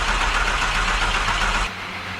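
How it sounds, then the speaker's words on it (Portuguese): A wrecked Lamborghini under rebuild, cranked with power fed straight to the starter motor, finally catches and runs with a loud, rough, noisy roar that drops to a quieter idle near the end. "E finalmente, o motor ligou."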